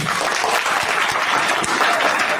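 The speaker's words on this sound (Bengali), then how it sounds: "এটা একটা তালি হওয়া দরকার।" Audience at a college event bursts into applause, a full, continuous wash of many hands clapping at close range with no voices over it.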